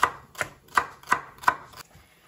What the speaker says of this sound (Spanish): También picamos el apio.